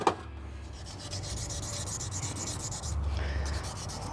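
Abrasive paper rubs crosswise over a scratched motorcycle fork tube in a cross-hatch pattern, a steady close, faint rasping scrape with a slightly louder stroke near the end.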